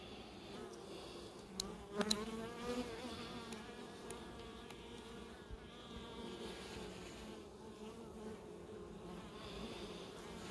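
Honeybees buzz steadily up close, a continuous droning hum that rises briefly in loudness early on.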